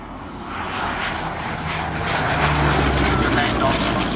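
Hawker Hurricane fighter flying at an evening air display, its propeller engine droning steadily and swelling slightly louder as it passes, heard continuously from a distance.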